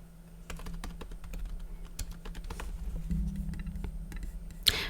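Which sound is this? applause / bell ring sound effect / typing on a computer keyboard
typing on a computer keyboard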